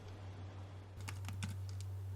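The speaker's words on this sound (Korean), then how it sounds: "에이저 알루미늄 유선 키보드" Light typing on an Azer aluminum wired keyboard, a few soft quick key clicks after a pause, faint over a steady low hum.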